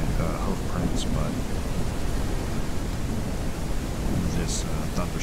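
A thunderstorm in the video game Cowboy Life Simulator, a steady wash of rain and low rumbling thunder at moderate volume, with faint scattered sharp sounds on top.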